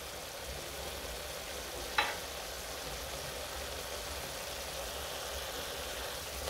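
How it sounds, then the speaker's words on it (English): Vegetables and spices stirred and fried together in a pot for a chicken gizzard stew, a quiet, steady sizzle with one sharp utensil knock against the pot. "Now go ahead and mix your vegetables. See that they are nicely blended and cooked through."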